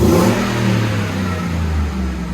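Ford F-150 SVT Raptor with a 6.2L V8 and aftermarket exhaust, a deep engine rev that rises at the start and then holds a steady, loud, close rumble.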